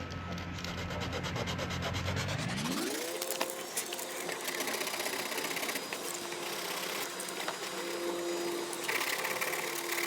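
180-grit sandpaper worked by hand over car paint around a split, giving a continuous close, coarse rubbing scrape that holds steady throughout.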